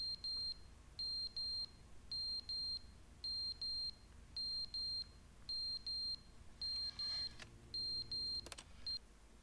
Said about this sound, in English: Oh, there's his alarm.